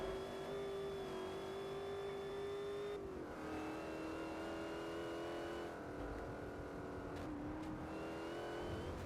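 A Ford Mustang's engine in Forza Motorsport 4 holds a steady, loud drone, then drops in pitch partway through as it shifts. It revs again and climbs under continuous tire and road noise, with no talking.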